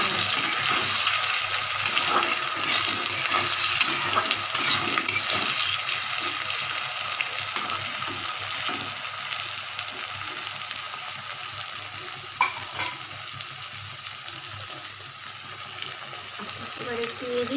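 Capsicum sizzles and fries with chicken in a pan, a steady broadband crackle with occasional stirring scrapes and faint water-like hiss, continuous and close throughout.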